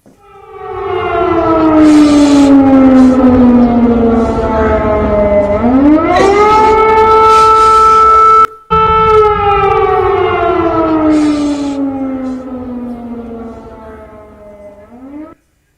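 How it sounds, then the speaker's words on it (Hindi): Air raid sirens wail over Kyiv in long rising and falling tones, loud and sustained, with a brief cut partway through and a slow fade at the end. "एक तरफ सायरन बज रहे हैं"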